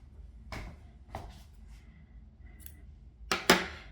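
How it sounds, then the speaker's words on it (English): Sharp scissors snipping through crochet yarn, a few quiet separate clicks and snips in a quiet room, with a louder double cut near the end. "So cut the yarn,"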